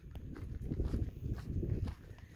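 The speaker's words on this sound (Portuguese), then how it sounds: "Olha que lindo esse cavalo." A horse stepping along a city street, its hooves giving soft irregular clip-clop thuds close by, faint and muffled amid low background noise.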